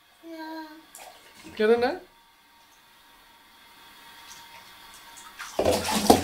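Water pours over a child's head during a bath, a splashing rush that starts briefly near the end, after a voice and an adult's voice speak and then a quiet pause.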